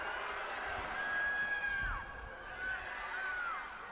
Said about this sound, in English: Welsh crowd urging their side forward